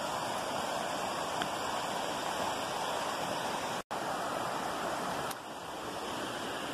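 Water of a mountain stream with pebbles on a trail near Vedeseta, a steady close rushing hiss that fills the whole stretch without pause, loud and alone with no talk.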